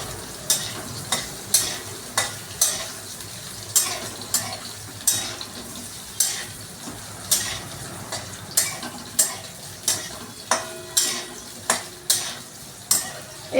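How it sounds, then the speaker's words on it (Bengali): Potatoes frying in oil until reddish-brown, a steady close sizzle punctuated by regular spatula scrapes and taps against the pan roughly every half second to second, loud and alone with no talking. "আলুগুলো লাল লাল করে ভেজে, একটু লাল লাল করে ভেজে আমি তুলে নেব।"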